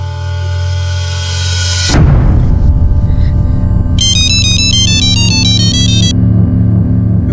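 A phone ringtone chimes as a bright, repeating electronic pattern for about two seconds, mixed under loud, dense background music.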